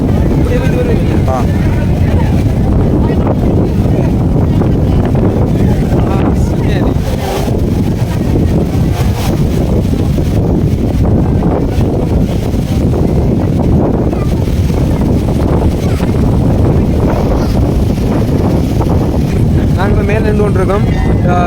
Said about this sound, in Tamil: சரியான மாதிரி காற்றடிச்சு கொண்டிருக்குது பாருங்க.